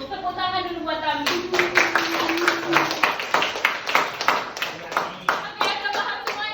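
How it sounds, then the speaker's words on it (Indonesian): A group of students claps in a classroom during a lesson on product packaging, rhythmic bursts of hand claps near and loud, mixed with a teacher's voice and children talking over them. "Tepuk tangan dulu buat kami"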